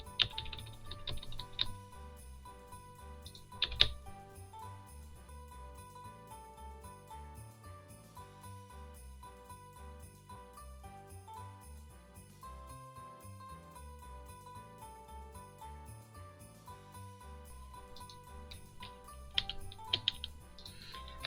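Computer arrow keys tapped while digitally laying out personalized family wood tree ornaments: a few sharp clicks near the start and again near the end, over a steady bed of soft background music.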